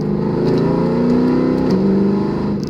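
A 2012 Mercedes W204 C63 AMG with a tuned transmission pulls hard from inside, engine note climbing then dropping sharply on a quick gear shift before rising again, loud and steady throughout.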